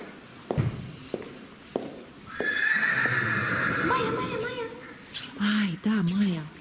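Horses at a stable in the evening: a loud, drawn-out whinny rises over scattered hoof clops and footsteps, followed by shorter nickers, with people talking nearby.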